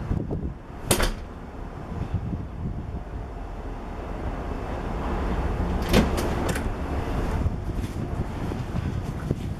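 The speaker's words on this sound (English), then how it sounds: "Closing the door." An indoor door swings shut, with a sharp knock or latch click early on and another thud a few seconds later over steady room and wind-like noise, heard close with no speech.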